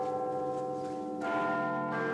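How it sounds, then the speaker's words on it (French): The Big Ben clock tower carillon in London chimes with a rich sustained ring, a new stroke layering over the fading tones, heard from a distance and steady. "D'abord le carillon."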